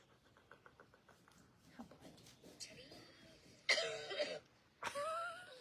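A couple of harsh coughs ring out over quiet background voices and small clicks, loud and close, outdoors in Custer State Park, South Dakota.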